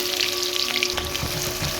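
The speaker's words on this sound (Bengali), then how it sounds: "পেঁয়াজটা একটু ভাজা ভাজা করে নেব।" Chopped onions are added to hot oil with bay leaf, dried chili and whole cumin and sizzle loudly and steadily up close, with a low hum underneath.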